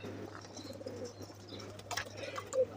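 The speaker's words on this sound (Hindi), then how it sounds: "ये इंडियन कबूतरी है।" An Indian pigeon, a kept hen bird, gives soft, low cooing amid faint rustling and a light flutter near the end, quiet and without talk.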